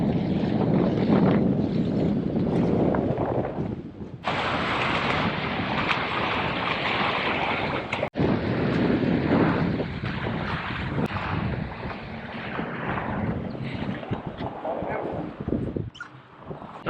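Strong wind roars across the microphone aboard a Dazcat 1495 sailing catamaran in flat water at about 14.5 knots, loud and steady with gusty buffeting and water rush underneath.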